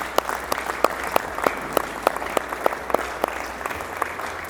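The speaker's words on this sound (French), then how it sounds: "Je voudrais, si vous permettez, que nous puissions applaudir pour cela." A modest crowd at a price-setting meeting's closing ceremony claps steadily for several seconds, sharp individual claps standing out over a dense patter of applause.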